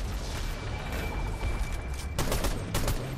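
Fortnite gunfire during a Duo Cash Cup match, with several sharp, loud shots bursting near the end over a constant game ambience.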